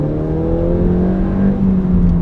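Inside the cabin of a 2016 Ford Fiesta ST, the engine's induction noise fed through the sound symposer drones steadily with a low, buzzing hum and a slight rise in pitch, loud and close.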